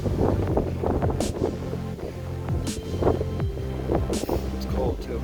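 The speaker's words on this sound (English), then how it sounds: "I don't know if you can hear that wind. It's nasty." Strong gusting wind buffets the microphone high on Longs Peak in September, a rough, continuous roar with heavier bursts, while a voice talks over it in places.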